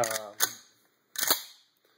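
Remington 870 pump shotgun with a faulty trigger group being dry-fired, two sharp metallic clacks of the action snapping, each ringing briefly before fading to quiet, heard close up.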